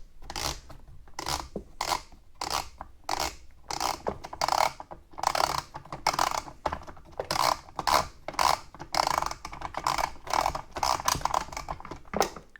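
Plastic bar-retaining knob on an EGO Power Plus 18-inch cordless chainsaw being turned counterclockwise, giving a long run of close ratcheting clicks in short bursts with brief pauses between turns.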